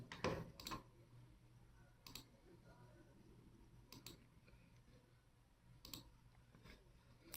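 A computer mouse gives several sparse, faint clicks while someone edits a product listing in an online seller dashboard, each click isolated against quiet room hiss with long pauses between.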